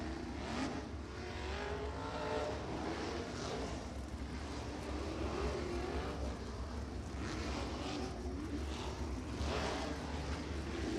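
USAC National sprint cars circle the dirt track at Ocala Speedway, their engines blending into a steady, moderately distant roar that rises and falls slightly as the cars pass, with no talking.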